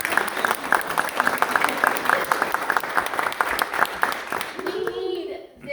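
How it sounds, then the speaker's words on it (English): An audience claps steadily and energetically for several seconds, the applause tapering off as a voice starts speaking at the end. "You guys gotta give a round of applause."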